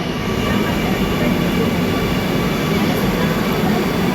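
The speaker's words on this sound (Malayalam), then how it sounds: "കാത്തുനിന്ന് ഞങ്ങളെ വണ്ടി വരുന്നു" Metro train arriving at a station, a loud, steady rumble and rush of the approaching carriages sustained throughout.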